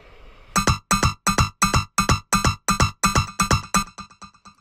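A recorded modular synthesizer track pulses in a steady, evenly spaced rhythm of about a dozen punchy hits, loud and close, fading out abruptly at the end.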